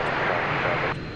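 An airliner taking off from DFW Airport gives a loud, close jet engine roar that holds steady and then drops off sharply near the end.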